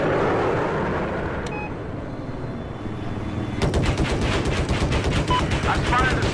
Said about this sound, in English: this guy's just firing at us